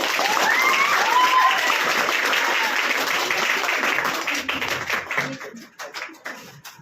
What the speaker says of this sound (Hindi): आप थोड़ा ताली बजा दीजिए.